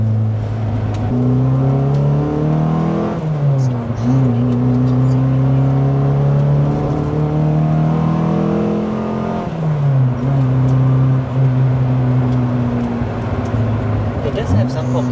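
A car, rated around 180 horsepower at the wheels, revs under load on a dyno. The engine holds a loud, steady drone that climbs in pitch and drops back twice, with people talking nearby.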